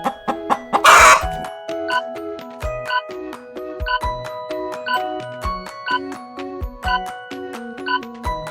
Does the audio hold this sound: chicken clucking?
yes